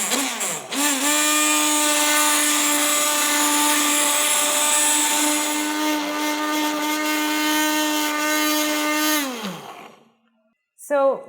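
A blender whirs steadily through mushroom and chestnut soup for about nine seconds. It spins up after a brief start, holds an even, buzzing drone, then winds down and cuts off, followed by a short clatter.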